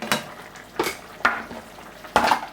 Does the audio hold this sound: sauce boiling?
yes